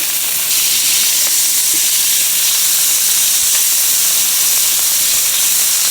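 Butter sizzles hard in a hot pan with a loud, continuous hiss and crackle, close up and unbroken, with no talk.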